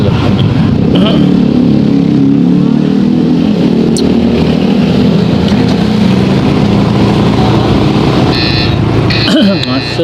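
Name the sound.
traffic jam at a road junction, cars and motorcycles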